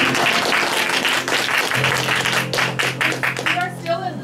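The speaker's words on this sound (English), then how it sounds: "Big applause." A class of students claps together, a burst of scattered hand claps mixed with voices talking over them, fading out toward the end.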